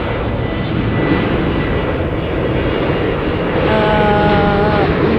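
A Copa Airlines airliner passes at Dallas Love Field, its engines a loud, continuous broadband roar that fills the whole stretch, swelling slightly toward the end with a faint whining tone.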